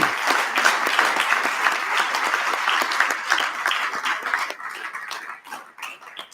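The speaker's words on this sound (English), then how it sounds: "If we could all just give them one last round of applause." A crowd applauds new promotees at a fire authority promotional ceremony, with sustained, even clapping that tapers and breaks up near the end.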